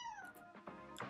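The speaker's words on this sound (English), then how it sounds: "my cat just screamed in the background" A house cat yowls in the background of a crypto discussion, giving a brief, faint, falling scream with a couple of short sharp bursts over about a second.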